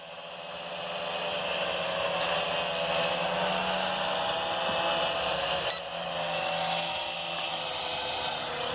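Venom Pro GPS drone flying at a campsite, a steady close whirring buzz of small propellers held at an even level throughout, with one brief dip partway through.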